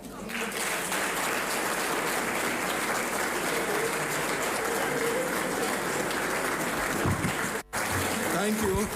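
Sustained applause fills a Nigerian National Assembly committee on petroleum resources hearing, a dense, steady patter running nearly the whole time, with voices mixed in and a brief dip near the end.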